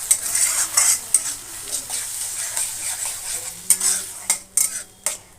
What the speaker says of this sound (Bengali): দিয়ে ভালো করে নেড়ে ঝেড়ে মশলাটা কষিয়ে নেব